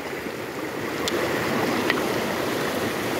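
Water rushes steadily along a cold river bank in North Bengal, a broad, even, close flow with a couple of faint clicks over it and no talking.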